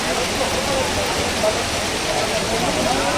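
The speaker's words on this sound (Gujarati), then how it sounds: "જો પડ્યા જો કેવા પડે મોટા મોટા કરા" Dense, large hailstones and rain drum steadily on hard surfaces, including a car, in Bhavnagar, a constant loud clatter throughout with a faint voice in the mix.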